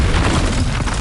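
A Bombarda explosion spell from Hogwarts Legacy detonates as a loud, dense boom with heavy low rumble, filling about a second with continuous blast noise.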